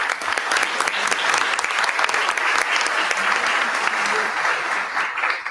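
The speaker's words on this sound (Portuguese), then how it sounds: "Uma salva de palmas à Carolina." An audience at a military law symposium applauds steadily, a dense burst of clapping that continues loudly throughout.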